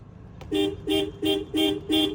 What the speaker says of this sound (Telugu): హారన్ కొట్టినా మీకు కూడా గుళ్ళే కదా గంట కొట్టినట్టు